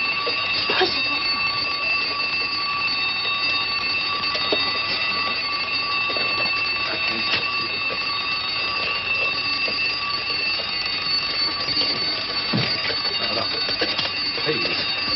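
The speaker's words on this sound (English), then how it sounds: "I'll set the alarm." An alarm clock rings continuously in a shrill, steady, loud metallic peal, with occasional faint voices and small thumps underneath.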